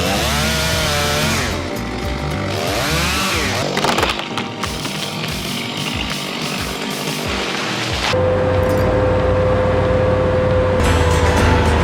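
A chainsaw cuts into a tall tree beside a house during logging, its loud engine whining and bogging through the wood, then revving high again, continuous and close with no speech.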